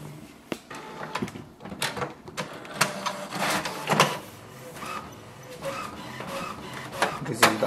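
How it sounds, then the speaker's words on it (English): An HP Smart Tank inkjet printer prints an alignment page, with a close run of mechanical clicks, whirs and paper-feed clunks in an irregular rhythm and no talking. "So it will send a command for the printer to print the alignment page."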